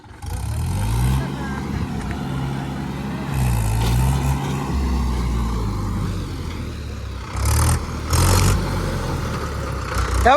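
Mahindra 475 DI tractor engine running close by with a deep, throbbing low rumble that swells in a few revving surges, while voices talk loosely over it.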